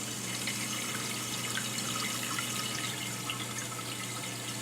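Steady hiss of water rushing through a toilet supply line after the valve is opened on a Fluidmaster Universal Flex cable install, a constant close wash of flow with no pauses or voices.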